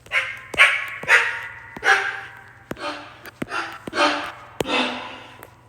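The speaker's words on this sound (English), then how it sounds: "And the default sample is bark." A synthetic dog bark sample played repeatedly on a sampler app keyboard, about eight short yappy barks in an uneven rhythm, close and clear over a faint steady hum.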